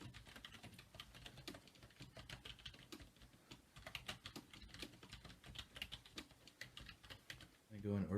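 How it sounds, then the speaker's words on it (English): Fast, continuous typing on an ASUS computer keyboard in a keyboard test, a dense patter of close, quiet clicky keystrokes with a louder thump at the very end. "This is the ASUS eWaste keyboard."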